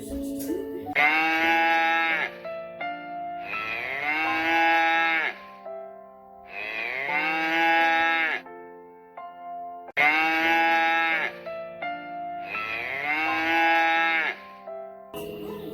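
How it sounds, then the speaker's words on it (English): A cow moos loudly and repeatedly, five long drawn-out calls separated by short pauses, close and clear with nothing else around. "Sa'a, cow."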